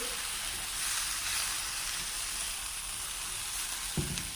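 Small tomato dropped into a hot pan with onions, sizzling and frying steadily in oil, a close, even hiss with a brief clatter near the end and no talking.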